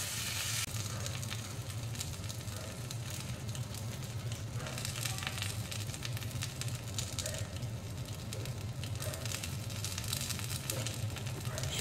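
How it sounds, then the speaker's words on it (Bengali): Fried carrots, potatoes and sweet potatoes being stirred in a pan for Bengali shukto give off a continuous soft sizzle and crackle, steady and close throughout. "একটু কষিয়ে এবার দিয়ে দিতে হবে ভেজে রাখা গাজর, আলু, রাঙালু। একটু নাড়াচাড়া করে নিতে হবে।"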